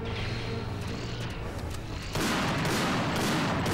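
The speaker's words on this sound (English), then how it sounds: "The rapid sniper rifle does not take out these walkers very quickly" Rapid sniper rifle fire against giant walkers in Global Defence Force, a steady dense barrage of shots with explosive booms thickening and growing louder partway through, continuous and close.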